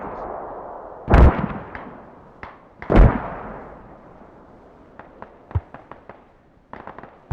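Mortar rounds in the video game Squad land as two heavy, booming blasts a couple of seconds apart, followed by a scatter of sharper, distant cracks of gunfire.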